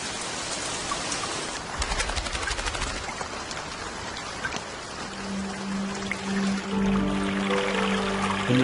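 Rain falls at the end of the dry season in a wild lion habitat, a dense, loud hiss of drops pouring down, joined later by a low, tonal hum.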